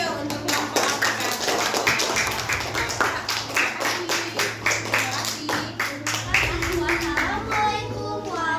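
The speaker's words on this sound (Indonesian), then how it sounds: "kalau betul kita kasih tepuk tangan dulu ya untuk kelompok APK" A classroom of students claps for a presenting group, a lively burst of many hands sustained for several seconds with an uneven rhythm, while children's voices and a low hum carry underneath.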